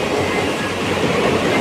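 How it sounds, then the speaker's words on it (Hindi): A train passing at Kumarghat railway station, a loud, steady rumble of wheels and carriages rolling close by with no talk over it. "देख सकते हैं ट्रेन जा रहा है अभी"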